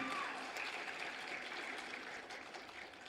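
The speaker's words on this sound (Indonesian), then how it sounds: "Tepuk tangan untuk guru-guru kalian." Faint applause from an audience at a 2022 school graduation ceremony at SMP Islam Athirah 1 in Makassar, a soft, even patter of clapping heard from a distance.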